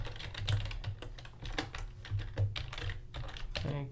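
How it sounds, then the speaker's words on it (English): Rapid, steady typing on a computer keyboard, close up, with dense irregular key clicks and a few heavier keystrokes, heard alone without talk. "Use 2 hands to type, you lazy."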